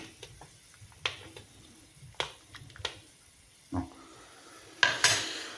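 Buckwheat is stirred into soup in a pot: scattered light scraping taps and knocks of a utensil against the pot, ending in a louder grainy scrape, quiet and close, no talk.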